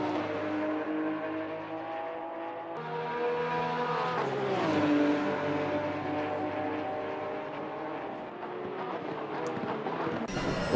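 Porsche GT3 Cup race cars in the racing game Assetto Corsa Competizione roar continuously, engine notes rising and falling through gear changes as several cars run close together.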